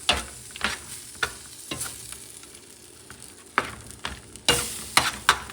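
Ingredients for Spanish seafood rice being mixed in a pan over medium heat: repeated sharp scrapes and clacks of the utensil against the pan over a steady sizzle, close and fairly loud, with no voices.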